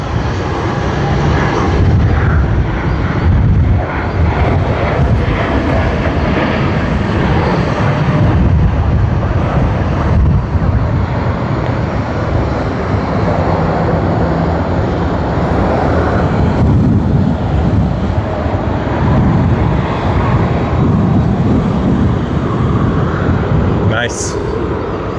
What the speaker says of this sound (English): That was a wonderful takeoff.